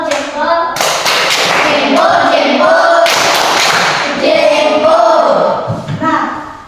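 A classroom of children claps loudly in rhythmic patterned bursts with thumps and taps. Children's voices chant along at times, and the clapping fades out near the end.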